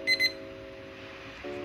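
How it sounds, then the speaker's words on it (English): A study countdown timer gives two quick, clear electronic beeps as it reaches zero, then falls quiet over faint background hum. "if you press on start, it will count down, the countdown will begin and it will beep when it's over"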